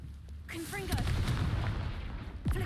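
Confringo blasting spell in the Hogwarts Legacy video game, a fiery burst and sustained rumbling impact with whooshing sweeps, followed by a second quick magical zap near the end, moderately loud amid game ambience.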